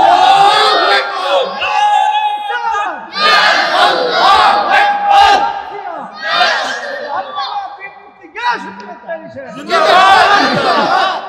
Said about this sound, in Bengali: একটা স্লোগান দেন তো ইনশাআল্লাহ।